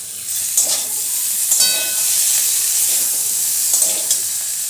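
A medium-sized tomato goes into a hot pan of potato and pointed gourd for moong dal, giving a steady loud hiss of sizzling with a few soft stirring clinks, close up and without speech.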